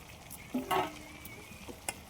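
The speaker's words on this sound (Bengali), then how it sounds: "মাংসটা একটু হালকা করে কষে নিয়েছি এবার দিয়ে দিচ্ছি ভেজে রাখা আলুটা" Fried potatoes dropped into a pan of chicken curry cooking, giving a quiet sizzle with a few brief clattering stirs and a short spitting burst near the middle, faint overall.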